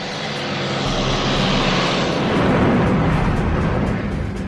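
An F-86 Sabre or MiG-15 jet fighter engine roars loud and close in a continuous broadband rush that swells through the middle and then eases slightly, with no speech over it.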